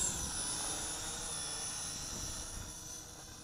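An SG700 folding selfie camera drone performs an automatic takeoff, its propellers giving a steady, high-pitched whirring buzz that holds at a constant level throughout, close by and with no talking.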